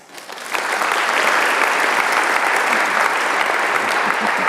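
Audience applause welcoming a singer to perform a Christmas song, swelling quickly into dense, steady clapping from a sizeable crowd that holds strong to the end.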